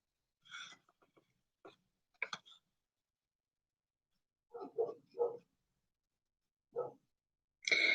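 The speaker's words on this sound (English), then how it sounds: "So sorry about the dog barking" Several short, distant dog barks in scattered bursts, separated by silent gaps, with a louder final bark at the end.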